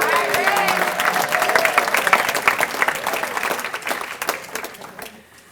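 A crowd at a volunteer luncheon gives a steady round of applause, many hands clapping densely with a voice briefly heard early, then fading out near the end.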